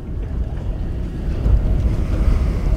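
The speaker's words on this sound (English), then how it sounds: "pretty much as soon as we both baited, that wind started." Strong wind gusts over the water of Beatrix Bay, buffeting a boat lying side on at its mooring, with a loud low roar and wave slap that swells midway and stays heavy.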